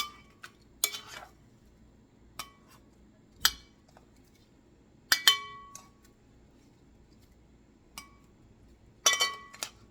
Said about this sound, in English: I'm going to take my tongs here and I'm just going to simply mix the seasoning into the papaya